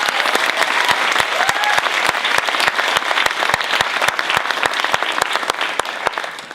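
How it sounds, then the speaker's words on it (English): Audience applause for a show choir director fills a hall, with steady dense clapping and a few sharper individual claps standing out throughout. "Give him another round of applause"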